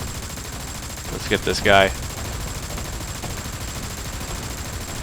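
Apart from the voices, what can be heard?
mech guns firing in the video game War Thunder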